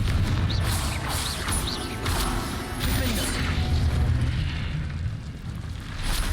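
Confringo fire spell detonating in the Hogwarts Legacy video game, a loud, sustained roar of explosive crackle and rumble blended with dense battle noise, without pause.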